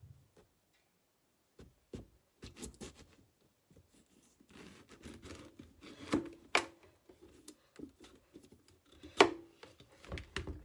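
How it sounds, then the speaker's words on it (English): A knife cuts a whole pumpkin in half in a series of faint, uneven crunching and ticking strokes, with bursts of scraping as the blade works through the flesh and one sharper crack near the end. "Now I'm going to turn it over and cut this in half."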